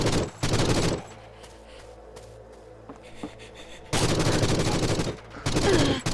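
Heavy automatic gunfire in the video game Forgive Me Father, a loud burst at the start, a quieter stretch with small game noises, then long sustained volleys that fill the last seconds.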